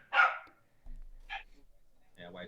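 A voice imitates a dog barking: one sharp, loud bark-like burst up front, followed by a couple of fainter yelps and a low rumble in an otherwise quiet room.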